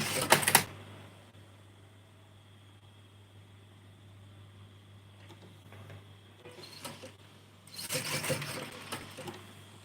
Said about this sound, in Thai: อันนี้เป็นการเย็บเย็บ ปากกระเป๋านะคะทุกคน